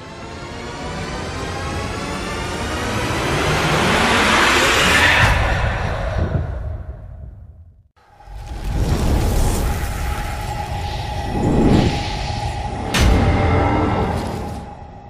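Car engine in the Brazilian driving game Auto Life Brasil revs upward in sweeping tones, drops out briefly mid-way, then surges again with whooshing road noise; no voices.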